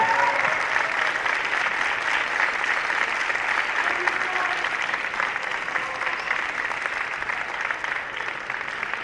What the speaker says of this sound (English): Cadets, give a round of applause to everybody who made it came to today